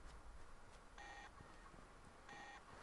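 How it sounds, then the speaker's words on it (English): A telephone rings faintly in Fallout 4, with two short electronic trill bursts about a second apart against a quiet hiss. "there's a ringing phone"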